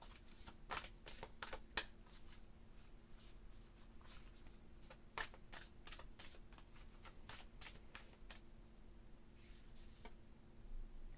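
A deck of Moonology oracle cards is shuffled close up, a long run of quick papery riffles and flicks in uneven bursts over a quiet room.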